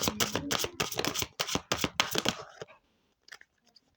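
Tarot cards riffle-shuffled up close in a rapid run of crisp, papery bursts for about two and a half seconds, then near silence broken only by a few faint taps.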